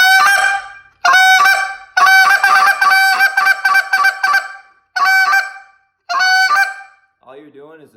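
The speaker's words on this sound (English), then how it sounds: "all you're doing is a spit note, but you're rolling it in back to a cluck." A goose call blows a series of sharp honks, spit notes rolled back into quick bursts of clucks between longer notes, loud and close with brief pauses.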